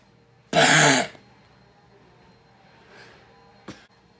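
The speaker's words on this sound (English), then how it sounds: "Cough." A man gives one loud, close, harsh cough or throat-clearing burst lasting about half a second, followed by quiet and a faint short sound near the end.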